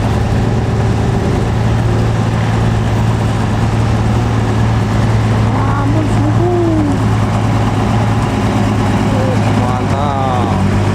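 An old Toyota truck engine running steadily, a constant low idle drone close by that holds for the whole stretch with a few faint voices and background noises over it.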